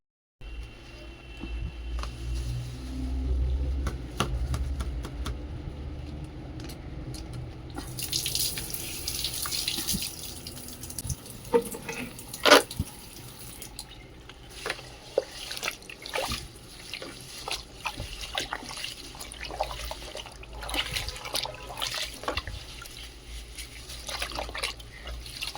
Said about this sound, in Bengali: তো চলো বন্ধুরা আমার শাক ধোয়া হয়ে গেছে